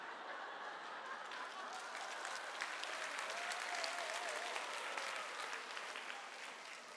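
Steady applause from an audience at a lecture fills the whole stretch, a dense, even wash of many hands clapping without a break.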